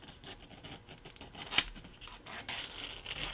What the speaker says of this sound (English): take a brand new blade. And you could use an X-Acto knife. Now, we want to scrape